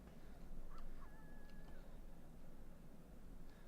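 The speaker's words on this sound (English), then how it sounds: "Look at you, it caws." A jet black crow caws in Where the Water Tastes Like Wine, a couple of faint calls over a steady wash of low ambient noise, fairly distant and quiet.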